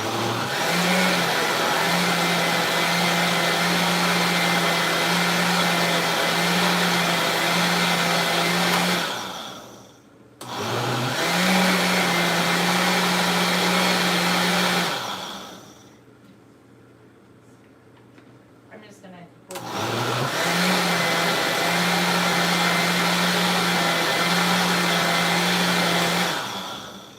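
A kitchen blender whirs loudly while blending a grapefruit and orange smoothie, running in three long bursts of about nine seconds each, with short pauses between them where the motor cuts out and spins back up.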